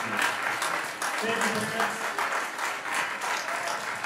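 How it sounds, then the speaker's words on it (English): An audience at a Lake Forest High School choir concert applauds the seniors' parents, a steady wash of clapping that continues under a speaker's voice. "So seniors, I want you to give your parents a round of applause for being awesome and being able to do that."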